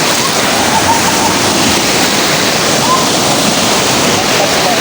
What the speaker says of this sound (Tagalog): The waves, it's real.